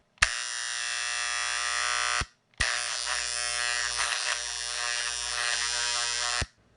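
A loud, harsh electrical hum from a tape bulk eraser sounds twice: a two-second burst, a brief pause, then a longer stretch with a buzzing tone that shifts slightly in timbre as a cassette is moved nearby.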